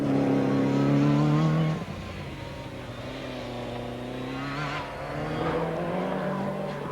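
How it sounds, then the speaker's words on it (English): An MG Metro 6R4 rally car, already rolled and damaged, runs loudly through a stage of the 1985 Lombard RAC Rally, its engine note shifting as it passes close and then continues at a steady drone. "The MG Metro 6R4 of Tony Pond."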